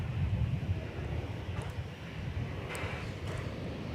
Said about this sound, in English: This is American Flight 1660. It is going to Phoenix, Arizona on that A321.